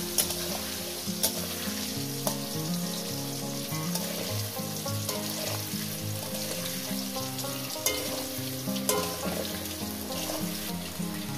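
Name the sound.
potatoes frying in oil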